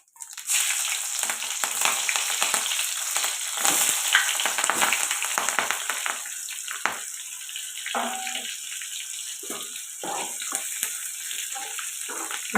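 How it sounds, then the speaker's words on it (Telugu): Fenugreek seeds, cumin, chopped green chillies and onions fry in a pan for an okra pulusu, giving a loud, dense, hissing sizzle that starts abruptly and settles slightly, with faint stirring scrapes and no talking. "ఇప్పుడు మెంతులు ఫ్రై అవ్వాలి అలాగే జీలకర్ర కట్ చేసి పెట్టుకున్న పచ్చిమిర్చి ఉల్లిపాయలు వేసుకుంది"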